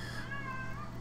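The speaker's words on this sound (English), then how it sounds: "I wonder if you can hear my cat meowing in the background." A pet cat meows in a drawn-out, wavering cry, fairly close and steady, with no talk over it.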